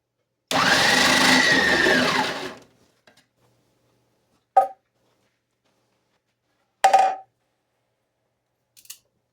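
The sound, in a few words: food processor slicing vegetables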